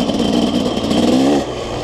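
A 2006 KTM SX 125 two-stroke motocross bike at a circuit, its engine held at a loud, close, raspy buzzing rev before dropping back toward idle.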